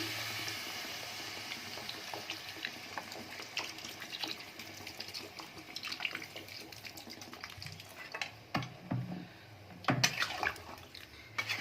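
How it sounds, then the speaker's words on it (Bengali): Water poured into a pan of potato and pea curry, a steady splashing pour running throughout, with a few sharper clatters and sloshes near the end. "আমি এখানে জল দিচ্ছি।"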